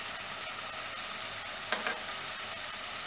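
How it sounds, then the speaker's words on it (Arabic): Chicken pieces and onion fry in a pan with a steady, close hiss and a brief crackling flare partway through. "من بعد ما كتشحر شويه البصله غادي نزيد عليها القطع ديال الدجاج"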